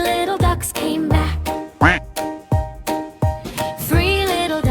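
A cartoonish duck quacks repeatedly in bright, nasal bursts over a lively children's song, in a steady bouncing rhythm.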